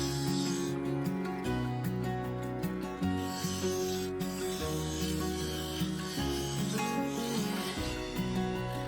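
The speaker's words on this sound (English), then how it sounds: "First up was a full-size carbide cutter to get the rim to round and get the blank better" Full-size carbide cutter scraping and rasping against a spinning sapele segmented bowl blank on a wood lathe, a steady grinding hum with shifting pitch under a constant motor drone.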